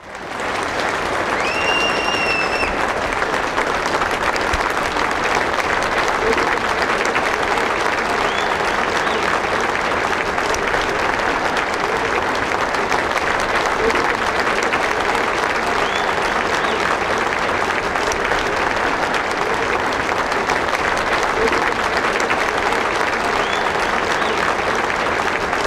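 Audience applause at the 2015 Grand Slam awards, sustained dense clapping from a large crowd that holds at a steady, loud level throughout with no break, a few faint whistles rising above it.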